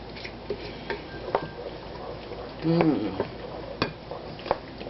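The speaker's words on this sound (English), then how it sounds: "let's give that a mix" Pumpkin pie filling is mixed in a bowl with soft, steady scraping and stirring, broken by light taps of the utensil against the bowl and a brief murmur of voice partway through.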